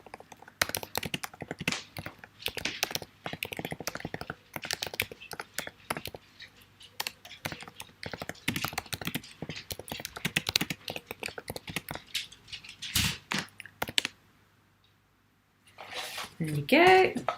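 Someone types on a computer keyboard in a steady flurry of quick clicky keystrokes, close and crisp, with some talking mixed in and a brief pause near the end.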